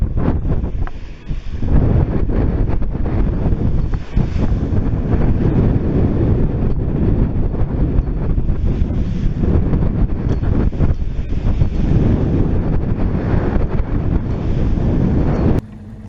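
Rough sea slapping and splashing against a small motorboat hull, a steady loud wash of water and surf noise with heavy wind buffeting the microphone throughout, no voices.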